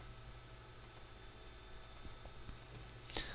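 Faint computer mouse clicks sound while pen tool nodes are placed in After Effects, a few sparse, irregular soft clicks against a quiet room hum, the last one slightly louder.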